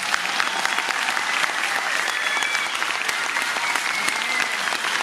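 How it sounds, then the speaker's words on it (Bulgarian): Audience at a festive 10th-anniversary folk dance concert in Razlog applauding the children of the Pirinski Naniz dance troupe, a loud, sustained, dense clapping that holds evenly throughout. "Моля, аплодисменти още за децата на Пирински Нанис,"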